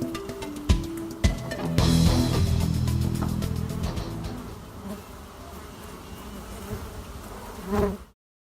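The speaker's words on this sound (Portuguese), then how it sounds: "hoje o vídeo será sobre" Stingless bees buzz in a dense, close swarm, with a rising loud hum that fades gradually, punctuated by sharp clicks and bumps near the microphone.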